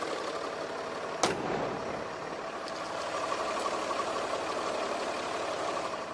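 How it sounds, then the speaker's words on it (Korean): A Land Rover Discovery 4 with the 3.0 SDV6 diesel V6 idles in a steady, even rumble. One sharp knock sounds near the start, then the engine drones on alone. "엔진 소음 먼저 들려드리면은 경유 V6이기 때문에 일반적인 4기통 경유 엔진보다는 확실히 조용하고요"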